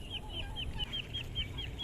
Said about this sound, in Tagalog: Mga pato natin, manok natin, andito sa labas mga idol.